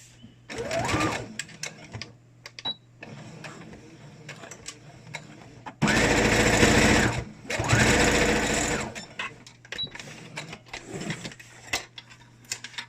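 A sewing machine double stitches a home-made medical mask, running in several bursts: short runs early on, then two long, loud stretches of rapid mechanical whirring separated by pauses and small handling clicks.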